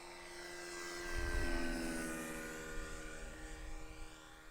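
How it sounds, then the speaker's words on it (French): An onboard sound generator on a model warbird airplane hums out a synthetic engine drone, steady and moderately loud, swelling briefly as the aircraft passes. "Ouais, on entend le bruiteur."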